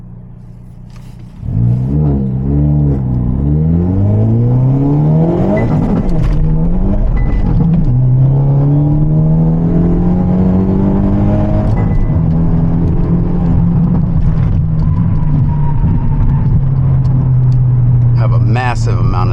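A 2024 Hyundai Elantra launching hard with heavy wheelspin and fuel cut, the engine note surging and climbing loudly, sweeping up through the revs and holding a high strained tone close to the microphone for many seconds.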